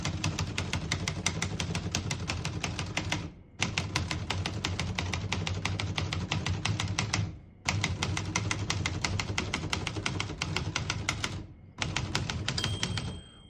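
A 1956 Smith-Corona Skyriter vintage portable typewriter clatters with rapid, dense keystrokes in long runs, broken by brief pauses, close and steady, with no talking.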